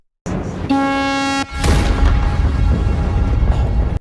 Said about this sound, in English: The Adola Link sound effect is like the best sound effect of all time